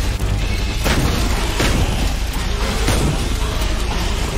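Booming blasts and crashing debris from an explosion in the underground level of the Vladik Brutal video game, loud and dense, with several sharp impacts over a continuous rumbling roar.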